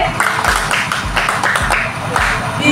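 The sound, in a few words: audience applause at a conference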